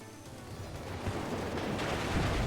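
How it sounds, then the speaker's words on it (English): Tanks firing heavy and medium machine guns in the WARNO strategy game, a dense rumbling fusillade of rapid shots that builds slightly louder toward the end, with no voices. "These tanks have the heavy machine gun and the medium machine gun."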